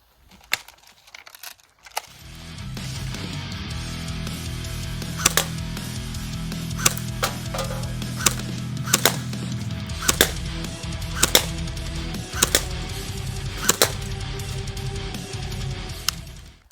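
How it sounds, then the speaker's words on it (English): CM.028C airsoft electric gun test-fired outdoors: a steady motor/gearbox whir begins after two seconds, punctuated by a dozen or so sharp, evenly spaced single shots, with no speech. "Now let's go out and test shoot it. Let's test shoot this."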